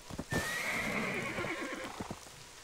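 Donkey mount in the Black Desert online game giving a loud whinnying neigh, with hoof clip-clop steps underneath.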